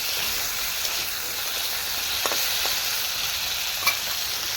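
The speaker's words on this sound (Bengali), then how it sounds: "এইভাবে ঢাকনা খুলে খুলে ভেজে নিতে হবে" Potatoes frying in oil in a pan, a steady bright sizzle and hiss with a few faint clicks of stirring, close and even throughout, no talking.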